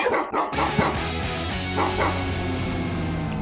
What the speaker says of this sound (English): You got a cool dog.